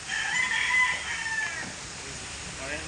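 A rooster crows once, loud and fairly close, holding a strained call for about a second before trailing off into outdoor background noise.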